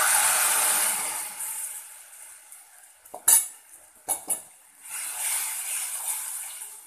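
Buttermilk kali batter stirred in a pot on low heat: a soft hiss, then a few clinks and scrapes of a utensil against the pot, before the hiss returns.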